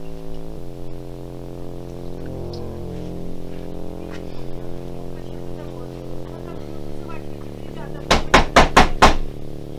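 Knocking on an apartment door during a wartime property dispute, with soldiers and police demanding it be opened: five quick, loud, sharp raps near the end, following a stretch of muffled voices and background sound.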